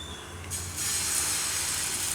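Chickpea flour batter ladled onto a hot, lightly oiled griddle, a soft tone giving way to a sudden broad hiss that settles into a steady, close sizzle.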